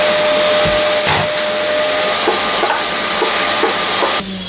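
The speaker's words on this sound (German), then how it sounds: "saugt hier die Vorratskammer gleich einmal aus." A vacuum cleaner drones loud and close while cleaning out a kitchen pantry, a continuous steady roar with a high whine and a few knocks from the nozzle bumping shelves.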